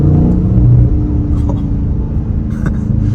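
A 2023 Dodge Charger Scat Pack Widebody pulling in second gear at half throttle, a deep close engine rumble from inside the cabin that swells briefly, with a few faint clicks and knocks.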